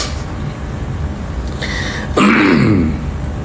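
A single harsh throat-clearing cough rings out near the end of a midday religious lecture in Terengganu, over a steady background hum.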